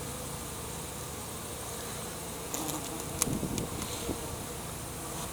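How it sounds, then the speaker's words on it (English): Steady buzzing of wasps at a beehive during inspection hums close by throughout, with a few brief sharper clicks and rustles near the middle. "a couple of wasps right there"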